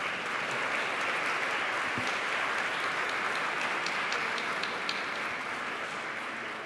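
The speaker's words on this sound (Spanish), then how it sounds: "Damos un fuerte aplauso al doctor Manuel Santos." Strong applause for a speaker at a conference in the former National Congress building, a continuous dense clatter of many hands, steady and fairly distant in a large hall, with no talk over it.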